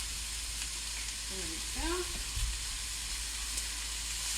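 Ginger and garlic sizzle in hot oil in a pan while a healthy Chinese-style dish is cooked. A continuous, close frying hiss runs throughout, with a brief spoken remark partway through.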